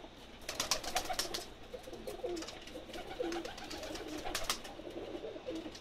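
Pigeons coo softly and repeatedly in a low, murmuring chorus while drinking water, with occasional rustling and light clicking sounds nearby.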